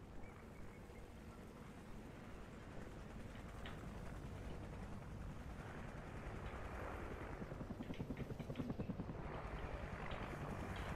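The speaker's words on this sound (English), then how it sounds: "Friendly chopper inbound." A friendly helicopter in a multiplayer shooter game, a steady low rotor rumble that swells louder toward the end, with faint voices beneath.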